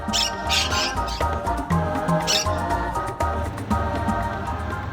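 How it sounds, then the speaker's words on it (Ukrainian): Exotic parrots squawk and chirp in a pavilion at the Kyiv zoo, a dense, busy mix of bird calls over a constant background hum. "Далі екзотичні папуги."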